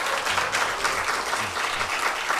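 Steady applause and cheering from a congregation in a university chapel service, dense and continuous at a moderate distance with no talk over it.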